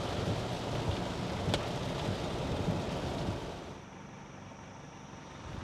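Steady hiss of rain falling over flooded fields in Thailand, fairly soft, with a brief crackle partway through before the sound thins and quiets toward the end.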